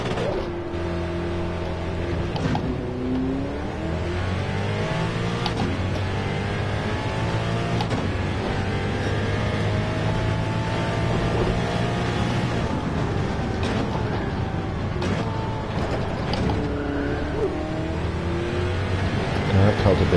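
A GT2 race car engine in a racing video game drones and revs continuously, with rising and falling pitch sweeps as it accelerates and shifts. A voice talks over it throughout.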